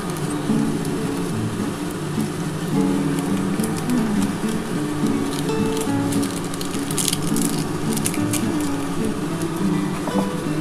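Maggi noodles with egg and spices being stirred in a pan, a steady sizzling patter with scraping and clinks of the utensil, close and continuous for about ten seconds with no talk.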